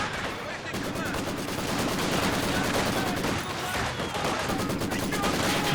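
Soviet Maxim machine gun in the Company of Heroes 2 strategy game firing sustained, rapid bursts amid a dense battlefield din that continues loud throughout.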